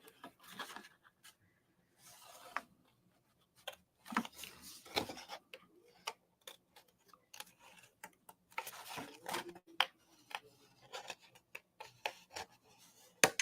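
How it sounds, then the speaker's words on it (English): Small scissors snipping out paper card pieces for a paper rose autumn florals pocket card: quiet, intermittent snips and rustles of card being handled, close and irregular, with no talk. "I'm going to take my little scissors and I'm going to quickly cut those out"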